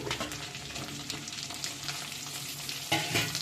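Capsicum frying in a hot pan, a steady close sizzle that runs the whole time, with stirring scrapes and a louder burst of crackle near the end.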